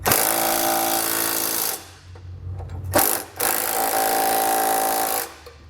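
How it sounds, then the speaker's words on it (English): A power tool drives a 19mm socket to snug Curt trailer hitch receiver hardware on a 2022 Volkswagen, giving loud, steady rattling hammering bursts with a brief pause and a short lower grinding between them, close up and without voices. "come back with a 19mm or a 3/4 inch socket and snug everything down"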